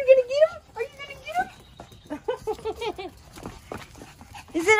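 A happy puppy whimpering with a few short yips and barks, close by and lively, mixed with people talking excitedly around it.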